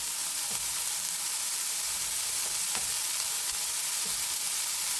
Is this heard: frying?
yes